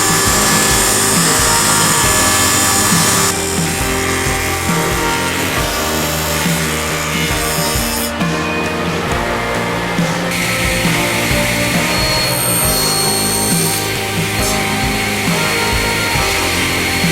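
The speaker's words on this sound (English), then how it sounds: "I make sure it stays against the fence and the table as I run it across the dado blades." A table saw with dado blades cuts small wooden corner moldings, a loud, steady whine and roar that continues for the whole stretch, its tone shifting slightly as the piece passes across the blades.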